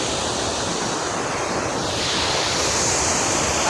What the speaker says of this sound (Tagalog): Grabe oh, ang lakas ng tubig.